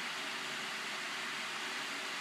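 A 2013 Lasko Galaxy 16-inch oscillating pedestal fan runs on its high setting, giving a steady, even broadband rush of blowing air with a faint low hum, close and unbroken throughout.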